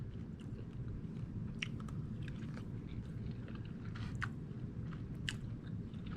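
Close chewing of a bite of cooked salmon, soft wet mouth sounds and small crunchy clicks over a steady low background hum, with no talk.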